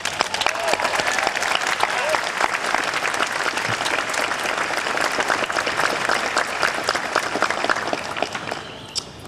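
An audience at a law school commencement ceremony applauds continuously, dense and sustained clapping filling the room, tapering slightly toward the end.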